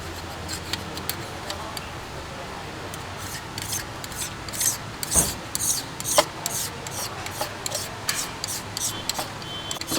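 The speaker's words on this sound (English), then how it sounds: "Using a smaller scraper just to get in the corners." Small flat carbide scraper rasping across the oil pan mating surface of a 2015 Jetta engine block, a run of short scraping strokes and clicks at close range with no talk.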